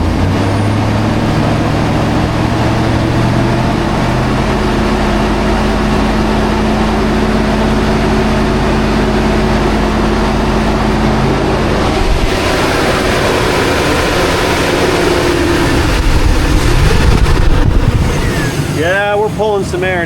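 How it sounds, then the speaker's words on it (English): Modified truck engine throttled up and held at high RPM, a loud steady roar with droning harmonics that rises and swells later on, while a voice talks over it. "Throttling up."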